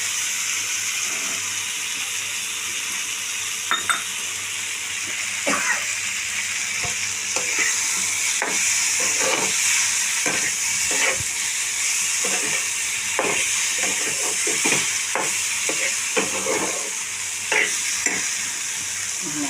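Potatoes frying for a mourala fish jhal are stirred in a pan, a steady hissing sizzle broken by repeated scrapes and taps of a spatula against metal, close and continuous for a long stretch with no talk.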